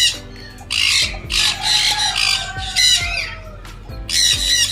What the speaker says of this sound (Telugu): ఇక్కడ ఈ చిలుక చూడండి ఎట్లా అరుస్తుందో.